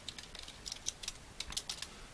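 Quiet typing on a computer keyboard while entering data into software, a run of light irregular key clicks with short pauses, close to the microphone and alone.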